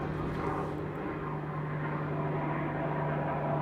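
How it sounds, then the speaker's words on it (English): Steady droning rotor and engine noise from a helicopter flying overhead, a continuous low rumble with a strong steady hum, fairly faint and distant, with no talking. "Bring it on, helicopter, bring it on."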